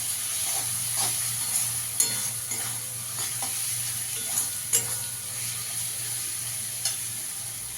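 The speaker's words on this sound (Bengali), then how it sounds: "ধনের গুঁড়ো দিয়ে দেবো 1 চামচ, একটু কাশ্মীরি লঙ্কার গুঁড়ো দেবো, দিয়ে ভালো করে একটু কষিয়ে নেব" Coriander powder and Kashmiri chilli powder sizzle and fry in oil for mutton kosha while a spoon stirs them steadily, giving a constant hiss broken by scraping clicks and small pops.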